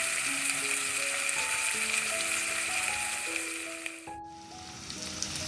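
Masala for an aloo shimla mirch curry sizzles steadily in a pan, a close, bright crackling hiss with faint scraping that dips briefly near the end before resuming.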